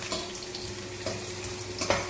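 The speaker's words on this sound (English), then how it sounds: "I am adding cut ginger here. Will fry nicely." Cut ginger fries in hot oil in a pan while a buttermilk tempering is made, giving a soft, steady sizzle with a few light stirring scrapes.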